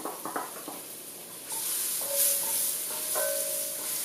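Red onions hit hot oil already fragrant with powdered spices for a North Indian mushroom mattar masala, setting off a sudden loud, steady sizzle after a few soft clinks, with a brief squeak on top.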